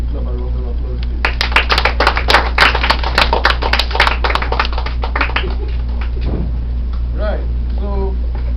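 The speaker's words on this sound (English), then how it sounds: "So give the leaders of the Caroni Police Youth Club a round of applause, please." Audience applause for the leaders of the Caroni Police Youth Club at an Emancipation address at a library, a burst of clapping from a modest crowd over steady room hum, swelling and then thinning out to a few scattered claps.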